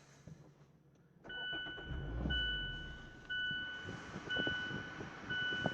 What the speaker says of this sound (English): Let me go ahead and start the car up here so I can show you what the gauges and things look like.